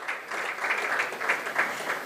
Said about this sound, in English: A very warm round of applause